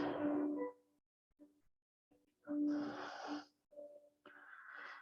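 Slow, deep yoga breaths drawn in and let out during a held stretch, a few breathy inhales and exhales close by, with quiet gaps between them.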